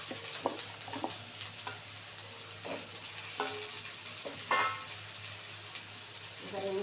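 Cut, washed potatoes sizzle in a pan while cooking Bengali alu-posto, with a constant frying hiss broken by repeated scraping stirs of a spoon.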